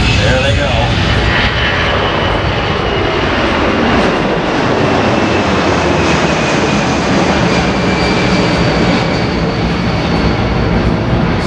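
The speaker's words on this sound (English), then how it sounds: "They'll pitch this nose up almost 25 degrees, Matt." USAF C-17 Globemaster III jet climbing steeply at an air show demonstration, a loud continuous roar of engine thrust sustained throughout, with people talking underneath.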